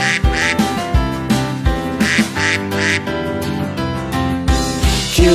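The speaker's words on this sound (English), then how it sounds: "he led the others with a quack, quack, quack" Rhythmic duck quacks in a children's nursery rhyme song, three quacks repeated in groups over a bright musical backing, clear and close, with no speech between them.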